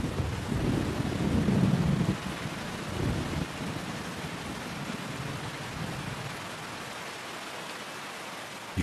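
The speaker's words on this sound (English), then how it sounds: "Rain sweeps in and brings mist with it." Steady rain falling over a forest in misty weather, a broad even hiss throughout with a low rumble like distant thunder early on, no voices.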